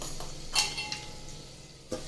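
Spices being stirred into vegetables for a Gujarati sambhariyu shaak in a pan, with a few distinct clinks of a spoon against the pan over a faint steady background.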